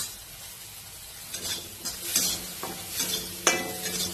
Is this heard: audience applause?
no